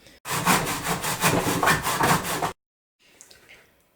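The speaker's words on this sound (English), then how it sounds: "let me go ahead and cut this first miter" Handsaw cutting a miter in a wood board for a small terrarium stand, with about ten quick rhythmic rasping strokes close up that stop abruptly, followed by faint light handling noises.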